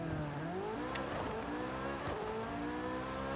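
Corvette C8 Z06 in Forza Horizon 5 holding revs, then launching, its engine note sweeping upward in two rising pulls with a quick shift between them, clean and fairly quiet.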